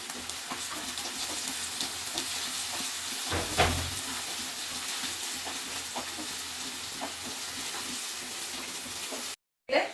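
Onion for Gobi Manchurian sizzles steadily in a hot pan while a spoon stirs it, giving a soft, constant hiss and a brief louder scrape, with a voice talking faintly over the cooking.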